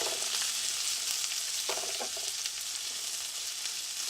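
Onions and a whole chili sauté in a hot pan, giving a loud, steady hiss of sizzling oil with a few brief stirring taps and no talk.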